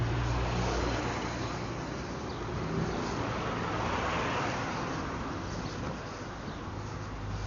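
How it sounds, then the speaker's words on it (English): Traffic on a busy street in Ponta Delgada, São Miguel, Azores, with a car approaching and passing close by amid a steady broadband roadway rumble and some wind, with no speech. "See always the car coming here. It's busy."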